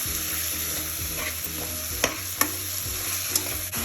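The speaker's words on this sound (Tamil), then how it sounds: "இப்போ தக்காளி ஆட் பண்ணலாங்க. பச்சை வாசனை போகிற அளவுக்கு நல்லா வதக்கலாங்க." Tomatoes sautéing and being stirred in a pan for vegetable biryani, giving a steady low sizzle with occasional sharp clicks of a spoon against the pan, close and continuous with no speech.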